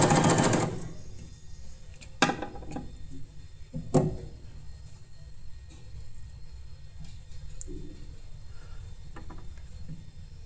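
Usha Janome Wonder Stitch sewing machine in a home class: a few sharp clicks and taps from the mechanism, then a faint, steady low whir, with no speech over it.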